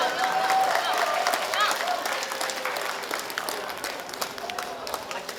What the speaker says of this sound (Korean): 송정중학교 학교 운영위원장이신 이기현 대표님을 큰 박수로 모시겠습니다.